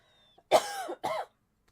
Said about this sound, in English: Clear my throat a little bit.